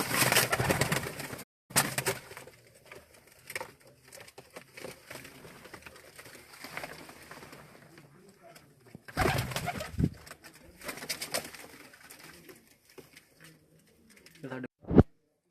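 Flying pigeons coo in soft, low repeated calls amid rustling and flutter in Nankana Sahib, Pakistan, with a person speaking intermittently nearby.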